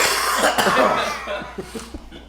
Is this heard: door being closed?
no